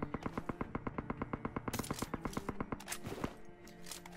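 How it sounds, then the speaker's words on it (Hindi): Automatic gunfire in the mobile battle-royale game PUBG Mobile rattles off in rapid, evenly spaced shots, followed by a denser volley of overlapping reports and a few scattered, echoing shots, with no talk. "फिर भी यहाँ तक गोलियाँ आ रही हैं"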